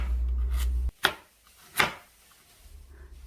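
A knife cuts through radish into thin strips, giving a few sharp, separate chopping strikes close up against a quiet kitchen background.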